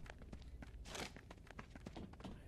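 Soft footsteps thud faintly in the shooter video game Lost Light, a loose run of quiet in-game steps with one fuller thump near the middle and no one talking.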